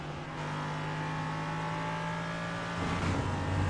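Steady LMP3 race car engine in iRacing holds a sustained drone with harmonic whine, then climbs in pitch and grows slightly louder near the end, close and continuous with no voices.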